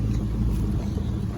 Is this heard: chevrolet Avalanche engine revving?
yes